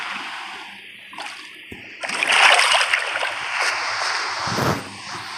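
A player character jumps into water in Minecraft, a loud splash followed by a sustained rush of churning water that fades after a few seconds.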